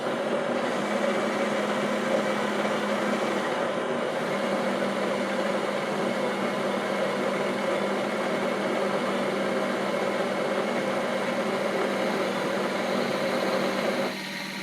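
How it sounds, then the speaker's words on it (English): A Breville Oracle Jet espresso machine grinds coffee with a steady, fairly quiet motor whir that runs evenly and unbroken, shifting slightly just before it stops. "You could tap this, or you could just move this a little bit and it starts grinding."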